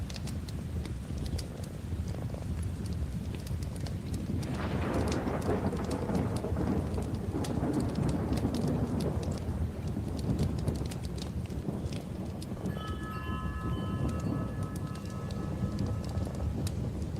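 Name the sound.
thunderstorm with rain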